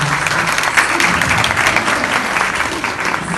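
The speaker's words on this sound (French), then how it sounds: "je vous demande de l'applaudir" Audience applause at a graduation ceremony for certified beauty and lace-wig professionals, a loud, dense, continuous burst of many hands clapping that fills the room from start to finish with no voice over it.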